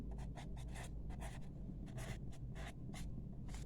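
Marker or pen writing out working during a maths lecture on equations, quick scratchy strokes in short bursts, close and soft, with no voice.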